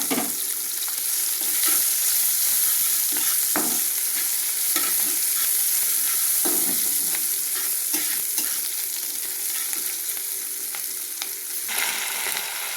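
Nigella seeds, chopped onion and green chilli fry in hot oil left from frying katla fish for a mustard fish curry. A loud, continuous close sizzle carries intermittent stirring scrapes throughout, with no talking.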